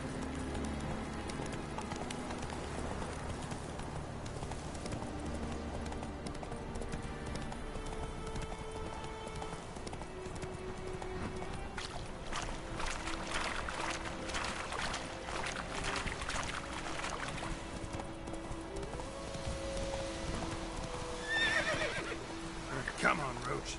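Horse ridden in The Witcher 3 video game, with clip-clop hooves and a whinny mixed among game sounds and music, fairly faint, with a voice talking at points.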